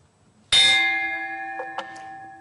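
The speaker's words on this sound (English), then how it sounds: "open every City Club forum with the club's iconic bell" A club bell is struck once to open a forum, giving a sharp clang that rings on with a long fading tone, followed by a couple of faint knocks.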